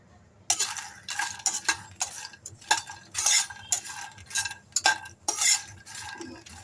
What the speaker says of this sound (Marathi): आता मखाणा पण भाजून घेणार आहोत आपण